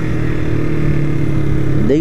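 Motorcycle engine running with a steady low drone and a brief rising rev near the end, a voice talking over it throughout.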